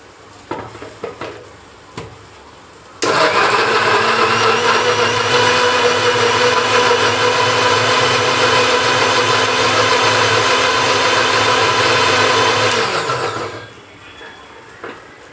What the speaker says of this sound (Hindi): और थोड़ा मोटा मोटा इसको ग्राइंड कर दूंगी